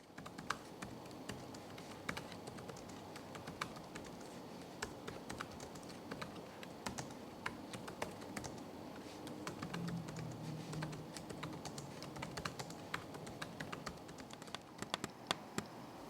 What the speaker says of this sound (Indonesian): Bisa coba tunjukin hasil dari tes keyboard dan juga touchpad di laptop ini.